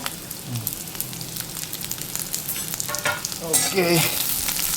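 Dried raisins being stirred and sautéed in a pan for pickle, a continuous close sizzle with scraping and stirring clatter that swells louder toward the end.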